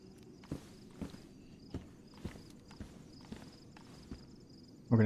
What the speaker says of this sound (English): Can't tell if I just heard a few footsteps.